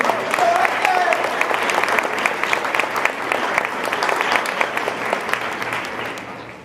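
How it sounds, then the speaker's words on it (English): An audience at a high school senior night ceremony applauds two honorees, a steady crowd of clapping with sharper individual claps standing out, gradually easing off near the end, with a brief voice early on. "one more round of applause for those two gentlemen"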